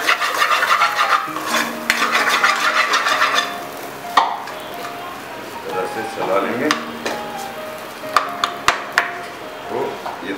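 Fried pea paste is stirred in a pan with salt and red chilli powder, a spoon rubbing and scraping through a soft sizzle, with sharper clinks near the end and a voice talking faintly at times.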